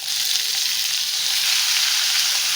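Onion and tomato fry in a pan with a continuous, dense, close-up sizzle that holds steady throughout, with no voices.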